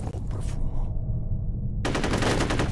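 Bursts of automatic gunfire in the shooter F.E.A.R., a dense rattling volley at the start, a short lull with a low hum, then another loud rapid burst.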